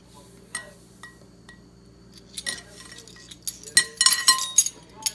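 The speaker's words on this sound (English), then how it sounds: "And then I'm going to add a teaspoon of salt." A metal teaspoon clinks against a glass bowl as salt is added for bread dough, a few faint taps first, then a close cluster of bright, ringing clinks toward the end.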